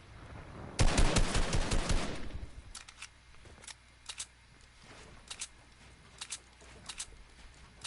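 Video game gunfire: a dense automatic burst sprays for about two seconds, then a string of shorter separate bursts and single shots follows at a lower level, no speech.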